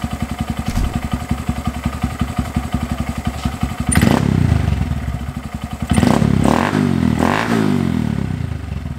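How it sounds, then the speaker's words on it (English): A 2022 Honda Grom motorcycle engine with a new intake idles with a rapid, pulsing putter, then revs up sharply twice, loud and close, dropping back between blips. "let's go ahead and give this bike some revs"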